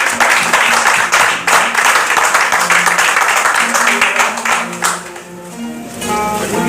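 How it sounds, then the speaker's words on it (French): An audience at an art exhibition opening claps in sustained applause that fades toward the end while people keep talking over it. "Je veux que vous l'applaudissez un grand bravo pour ce monsieur"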